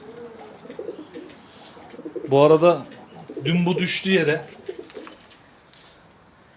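Pigeons coo on a home balcony in soft, repeated bursts close by, while someone speaks over them.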